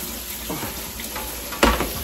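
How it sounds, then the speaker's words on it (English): Tap water running over raw shrimp in a kitchen sink, a close, uneven gush with occasional clatter and a louder splash near the end, no talking. "I like to run the water over it constantly to just kind of rinse some of that ocean off"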